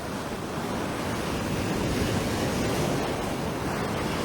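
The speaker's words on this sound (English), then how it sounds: "the swells that are coming over these rocks" Ocean swells break over beach rocks in a dense, steady roar of surf, loud and continuous with wind rushing across the microphone.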